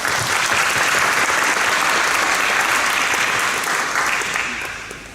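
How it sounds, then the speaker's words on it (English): Audience applause for high school students at an academic awards ceremony, a steady, dense wash of many hands clapping from a large crowd that holds strong for most of the span before tapering off at the end. "we'll give them a round of applause"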